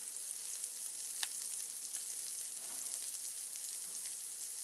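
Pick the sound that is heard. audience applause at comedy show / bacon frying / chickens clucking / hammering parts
bacon frying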